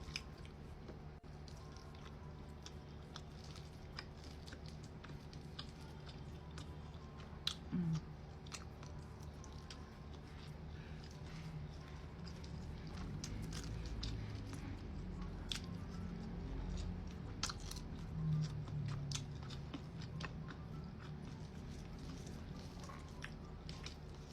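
Someone chews and bites milkfish with vegetables and chili dipped in soy-calamansi sauce. The wet, squishy chewing is soft and close, continuing steadily for the whole stretch with a few small crunches and no talk.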